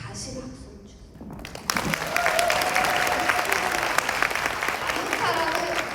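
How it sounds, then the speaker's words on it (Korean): A large seminar audience breaks into sustained, dense applause that swells suddenly and keeps going steadily, filling the hall after a speaker's voice. "다시 박수를 주세요."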